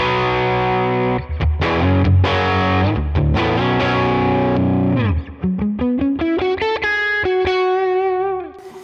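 An electric guitar runs through a Boss SY-1 synthesizer pedal placed in front of an amp, giving a crunchy, slightly distorted synth tone. Loud sustained chords give way to a rising sequence of plucked notes, with no talking.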